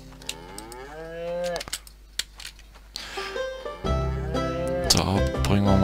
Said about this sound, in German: Warum haben die Kühe gemut?